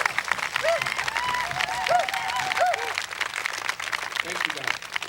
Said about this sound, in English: Would you give a round of applause, please, to Vic Charlo.